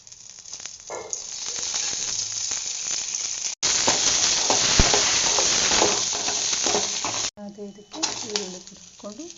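Garlic, ginger, cinnamon, cloves, pepper, cumin and green chillies frying in a little oil make a strong, steady sizzle up close, broken by a few brief cuts, with quieter stretches of clatter at the start and end.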